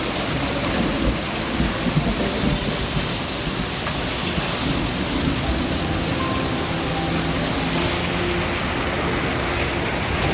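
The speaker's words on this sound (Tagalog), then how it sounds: "Naku, lakas na ng ulan." Heavy rain pours steadily and loudly, with thunder rumbling low beneath the downpour; no voices.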